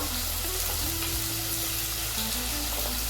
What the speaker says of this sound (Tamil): அடுத்து காய்கறிகளை போட்டுக்கலாங்க. முருங்கைக்காய், கொத்தவரங்காய், அரசாணிக்காய்,